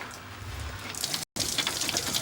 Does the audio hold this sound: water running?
yes